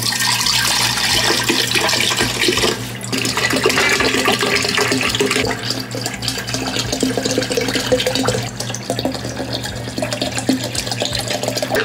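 Bottled water poured from opened bottles into a container, a steady close splashing stream running continuously with a brief dip near three seconds, no talking.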